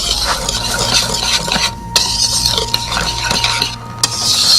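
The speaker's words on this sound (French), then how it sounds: "On va mélanger jusqu'à temps que c'est tout mélangé." A utensil stirs flour and cinnamon in a bowl, making repeated soft scraping and tapping strokes at close range, with a few sharper clicks and brief pauses.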